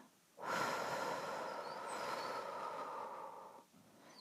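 A single long, deep exhale, breathy and close, lasting about three seconds after a brief pause.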